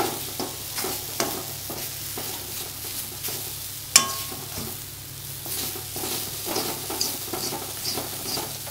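Apple pieces sautéing in a pan for apple pachadi, giving a steady close sizzle with soft stirring scrapes and occasional spoon taps against the metal, heard alone without talk.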